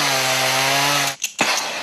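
A chainsaw runs loud and close at a steady high pitch, then cuts out briefly with a sputter before revving back up.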